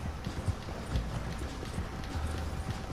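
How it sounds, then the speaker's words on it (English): Rhythmic hoofbeats of a racehorse galloping in the Red Dead Redemption 2 video game, a steady thudding clip-clop over a busy game soundscape at moderate volume. "a gente tá com um cavalo de corrida"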